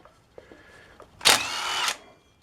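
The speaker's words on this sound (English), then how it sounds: "Well, let's give this a try with a DeWalt impact." DeWalt impact wrench spinning off a bolt on a 2001 Polaris Sportsman front axle during CV boot replacement: a few light clicks, then one loud close burst of hammering whir lasting under a second.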